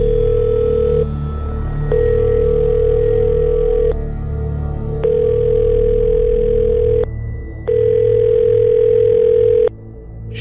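A phone call goes unanswered, with a steady electronic tone sounding in long, repeated bursts separated by brief gaps over a low hum; loud and close, with no voices.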